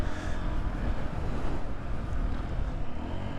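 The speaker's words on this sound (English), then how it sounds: "Got to make sure I keep the RPMs up because I do not want her to stall." Small single-cylinder Honda XR150L motorcycle engine running steadily while riding, a continuous low rumble mixed with heavy wind buffeting across the microphone, loud and close throughout.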